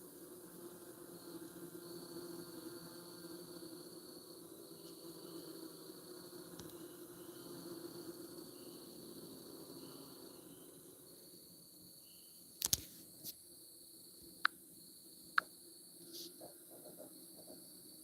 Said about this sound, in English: Yeah, it's the bees.